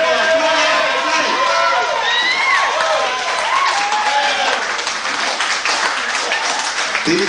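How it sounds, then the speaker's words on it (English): A comedy club audience applauds and cheers for a comedian, a dense wash of clapping and whoops running throughout, with a voice talking over the crowd. "please, a big round of applause for Miss Blackie Barrett"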